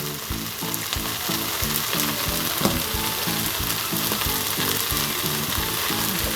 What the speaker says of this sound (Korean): 들깨가루를 넣어서 꼭 한번 이렇게 볶아보세요